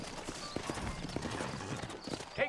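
Horse hooves clip-clop steadily on the ground in the video game Red Dead Redemption. The quick, continuous footfalls sit among a noisy outdoor ambience, at moderate volume throughout.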